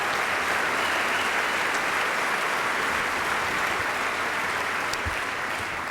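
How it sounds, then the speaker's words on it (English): Audience applause at the 2010 Basketball Hall of Fame induction ceremony, a loud, dense and continuous clapping from a large crowd that holds steady the whole time. "Give him a round of applause."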